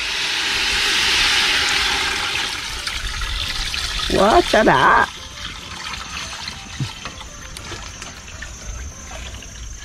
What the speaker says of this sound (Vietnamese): bây giờ mình sẽ chế nước vô đang làm nước lèo hủ tiếu nha mấy bạn